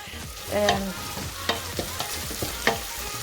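Meat fries and is stirred in a metal pot while cooking for a rice and meat dish: a steady sizzle with several sharp spoon clanks and scrapes against the pot, close and fairly loud, with no voices.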